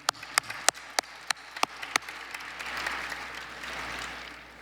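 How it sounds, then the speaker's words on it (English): An audience at a Martin Luther King Day celebration applauds the winners of an art essay contest, opening with a few loud, separate claps that swell into steady, moderate applause. "let's give a round of applause to the Art Essay Contest winners."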